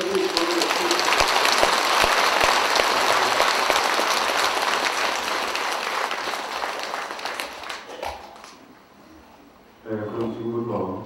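A crowd at a Buddhist memorial dharma service breaks into dense, loud applause that holds steady, then thins and fades out, after which a voice begins speaking.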